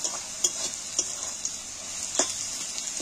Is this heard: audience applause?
no